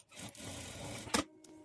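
A sewing machine stitching a blouse, a short close burst of rapid mechanical whirring that stops abruptly, then a faint clack, quiet overall.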